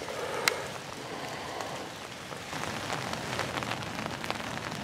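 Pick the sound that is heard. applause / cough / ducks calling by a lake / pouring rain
pouring rain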